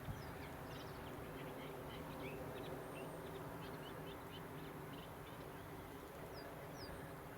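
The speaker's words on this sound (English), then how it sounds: "I think it's a sedge warbler that I'm hearing as opposed to the reed" A sedge warbler or reed warbler sings a chattering, scratchy song from reeds beside a walking path, fairly faint against a steady background hum.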